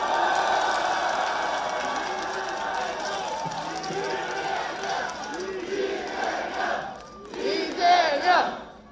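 Crowd at a Lee Jae-myung election rally in Busan roaring with shouts and cheers, a sustained mass of voices that swells louder near the end.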